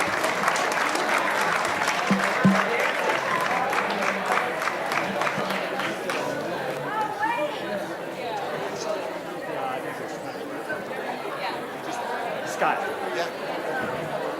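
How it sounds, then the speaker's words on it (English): An audience at a business awards ceremony applauds, dense clapping at the start that gradually thins into crowd chatter and scattered claps, with voices talking throughout. "big round of applause to Brent Bowman and Kaiser Permanente"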